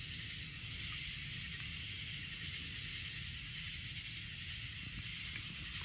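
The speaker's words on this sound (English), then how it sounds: "This is the sound of the 2024 cicada super bloom." A dense, steady high-pitched buzzing drone from a huge periodical cicada swarm during the 2024 emergence, continuous and loud, with a faint low rumble underneath.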